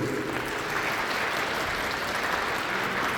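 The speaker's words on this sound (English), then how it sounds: "Everybody, big round of applause for our Fursuiters." Crowd at the Megaplex 2023 furry convention gives a big, loud round of applause for the fursuiters on stage, a thick, continuous roar of clapping and cheering that stays level throughout.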